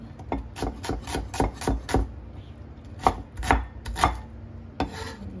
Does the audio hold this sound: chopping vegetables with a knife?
yes